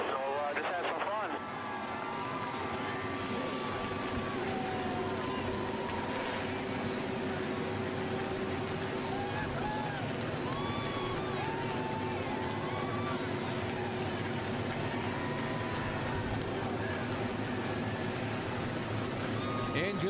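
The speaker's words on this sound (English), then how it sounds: "Engines have fired." Forty-three NASCAR Sprint Cup stock car engines roar at a 500-kilometer race, a dense, steady wall of engine noise with no break, loud throughout and with voices mixed in.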